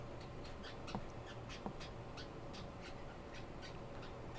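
Pet parrotlets, the smallest parrots kept in captivity, give a steady run of quick, high chirps and short squawks, fairly faint, over a constant low room hum.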